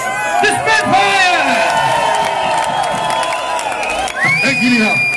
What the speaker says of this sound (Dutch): geef ze een duim applaus.